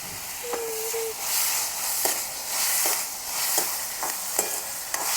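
Tomatoes dropped into hot oil tempering for a Gujarati okra curry give a steady, close sizzle and frying hiss, with soft stirring taps from a spoon against the pan at intervals throughout.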